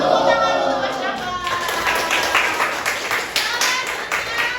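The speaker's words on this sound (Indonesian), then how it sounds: "Tepuk tangan untuk Mas Dava." Classroom applause for a student in a lesson, a dense steady patter of many hands clapping at moderate loudness for several seconds, with voices mixed in underneath.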